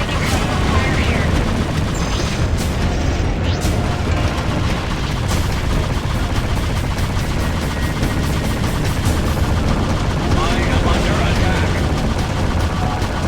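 Space combat gunfire in Freelancer: continuous loud bursts of weapon fire and booming impacts packed densely together, with rapid repeated shots layered over a constant roar.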